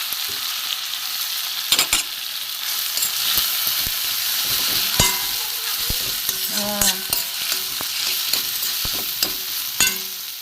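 Boneless fish paste is stirred and fried in a pan, giving a constant bright sizzle broken by sharp scraping clacks of a spoon against the metal, close and fairly loud, with no talking.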